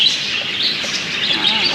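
Birds calling inside an aviary at Ocean Park in Manila: a steady wash of high chirps and tweets, many overlapping voices close by with no talk over them.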